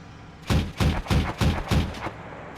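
Five heavy bursts of gunfire ring out loud and close in a tank combat video game, a regular run of shots about every third of a second with a brief quiet lead-in, and no talk.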